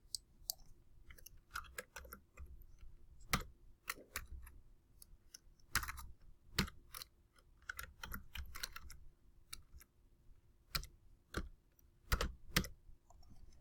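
Keys on a computer keyboard are typed in irregular clusters, sharp close clicks and taps with short pauses between, fairly quiet in an otherwise still room.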